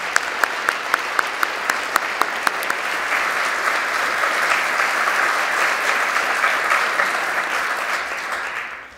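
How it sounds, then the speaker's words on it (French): Applause from a gala audience after a vibraphone and saxophone opening performance, starting with a few distinct claps that quickly swell into dense, steady clapping before fading out at the end. "Encore une fois, une bonne main d'applaudissements."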